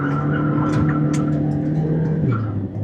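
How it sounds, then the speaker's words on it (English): A car launches hard with heavy wheel spin, its engine revving loud and close with a steady rising drone, tire scrub and a brief squeal over the top before the note drops near the end; no talking. "So much wheel spin, which is absolutely crazy."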